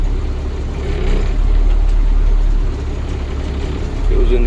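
An auction vehicle with a manual gearbox idles steadily just after starting, a loud, close, even engine rumble that holds for several seconds with no revving.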